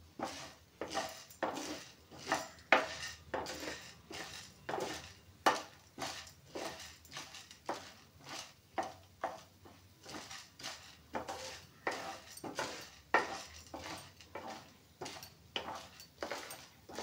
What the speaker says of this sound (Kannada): ಇದೆಲ್ಲನು ಮಿಕ್ಸ್ ಮಾಡ್ಕೊಂಡು ಹುರ್ಕೊಂಬಿಡೋಣ್ರಿ